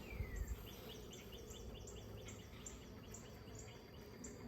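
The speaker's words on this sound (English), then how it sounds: "there's a large population of bees" Honey bees hum softly around an open hive, a faint, continuous buzz with small high chirps repeating across the top, quiet and close with no talking.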